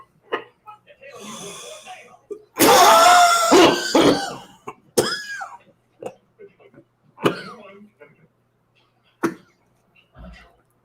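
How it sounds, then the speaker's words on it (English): A man coughs hard and clears his throat after a hit from a Puffco vaporizer, with a loud burst of close harsh coughs followed by several shorter coughs spaced through the rest. "coughing his head off and the Puffco hit"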